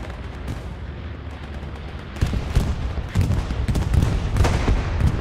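A bombing run and gunfire in the World War II shooter game Hell Let Loose: dense, continuous heavy explosions and rattling shots, growing louder and heavier partway through, with no voices.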